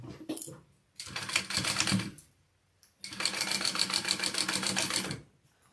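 Sewing machine basting a handle onto a bag, two bursts of rapid rhythmic stitching, one short and one longer, separated by a pause, close and alone.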